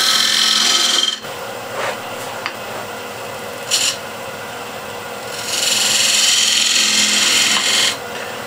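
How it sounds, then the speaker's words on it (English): A spindle gouge cuts a V groove into a spinning wooden workpiece on a lathe beside a walnut bowl, giving loud rasping scrapes in two long bursts with brief sharp touches between them. "I'll grab a spindle gouge and I'll make a V groove"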